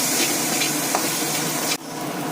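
Spice paste with salt and slit green chillies frying in a pan, a loud, close, continuous sizzle and scraping stir that cuts off abruptly near the end, leaving a quieter hiss, with no voices.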